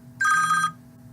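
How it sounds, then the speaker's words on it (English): A phone gives a single short electronic ring, a bright trilling tone lasting about half a second and standing out clearly against a quiet indoor background. "My phone's ringing."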